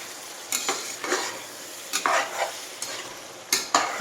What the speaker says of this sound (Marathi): मिडियम आचेवर दहा ते पंधरा मिनटं छान शिजवून घ्यायचं चिकन